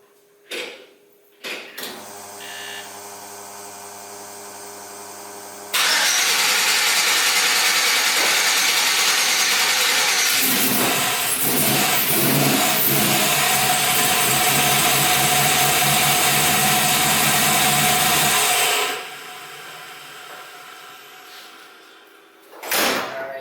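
An LS-swapped Chevy C10 with a Holley Terminator X cranks over, catches and settles into a loud steady idle with some revving for about thirteen seconds before shutting off, heard up close after a few clanks.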